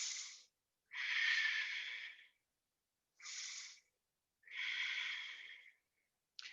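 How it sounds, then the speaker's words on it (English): Yoga breathing alternates slow, audible inhales and exhales through the nose, close and soft, in an even rhythm of four or five breaths separated by silence. "Take 2 breaths."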